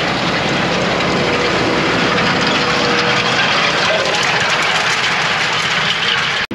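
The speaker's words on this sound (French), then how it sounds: "le 824 de la Cuma qui va vraiment très bien. C'est un tracteur donc qui fait 240 chevaux" A 240-horsepower tractor, the co-op's 824, working in a field being prepared for sowing, its engine a loud, close, continuous heavy roar with a broad rumble that holds steady throughout and no talk.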